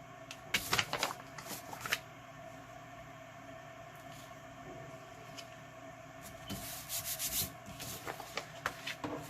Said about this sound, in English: I use my glue stick to go over my art glitter and just smooth it all out.